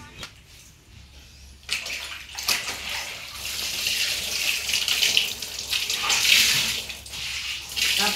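Clothes being washed by hand under running water at home, with a steady splashing tap stream and sloshing that swells and fades over several seconds, no talk.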